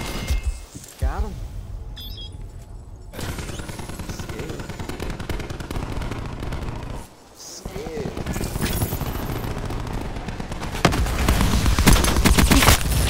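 Video game combat with dense automatic gunfire aimed at a hostile robot, loud continuous rattling shots and impacts, briefly pausing before resuming, with voices speaking over the action.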